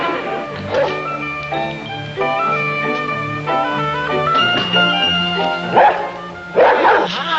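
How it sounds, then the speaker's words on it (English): A dog barks and yips in short bursts over a sustained musical backdrop, the barks close and fairly loud, with a few whimpering sounds between. "Have you been doing all that barking, huh?"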